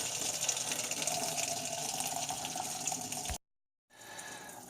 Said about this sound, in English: And drain all the cold water in the system.